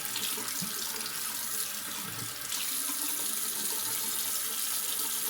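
A bathroom faucet runs steadily while a face is rinsed after a wet shave with a shave stick, producing a constant close hiss of splashing water that deepens slightly partway through, with no voices.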